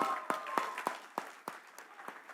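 An awards show audience claps in a thin, fairly distant patter of separate, evenly spaced claps that stays modest in volume.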